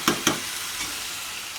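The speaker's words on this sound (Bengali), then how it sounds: "ভেজে নিচ্ছি আগে। আর এখানে আমি দারচিনি দিয়ে দিলাম" Whole spices, cinnamon among them, fry in oil in a pan: two sharp clinks of a utensil against the pan open, then a steady close sizzle hisses on alone.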